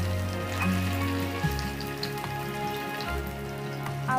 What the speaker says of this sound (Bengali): পটেটো স্টিকগুলো কিন্তু অল্প তেলে ভেজে নিতে হবে।